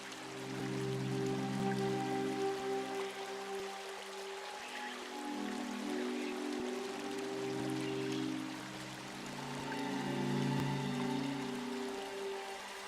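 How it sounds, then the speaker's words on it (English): Water in a fountain from the video game Syberia 3 flows and trickles steadily for several seconds, a soft continuous splash under a low ambient drone. "Go hold your head under the ice water in the fountain, Nikita."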